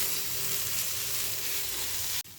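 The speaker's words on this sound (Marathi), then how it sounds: "कांद्यामध्ये हा ठेचा व्यवस्थित असा बारीक गॅसवर आपल्याला परतवून घ्यायचा आहे." Onion and crushed chili thecha with salt sizzles steadily in a pan over a low gas flame, a close continuous hiss and crackle of frying with no talking, cutting off abruptly at the end.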